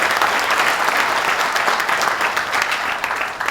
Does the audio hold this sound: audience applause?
yes